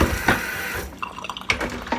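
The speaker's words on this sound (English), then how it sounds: "I get some water down in there." Water poured into a Berkey filter bucket during cleaning, a loud rushing splash for nearly a second, then scattered close drips, knocks and sloshes inside the bucket.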